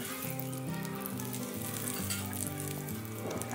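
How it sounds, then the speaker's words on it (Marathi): Mustard seeds sputtering in hot oil for a tempering, a continuous dense crackling sizzle heard close, alone with no talk, over faint background music. "यामध्ये आपण मोहरी तडतडून घेऊया"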